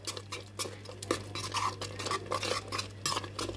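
A sweet dish being stirred in a pot right after ghee goes in, with steady scraping and clinking of a spoon against the metal pan, close and continuous with no talk.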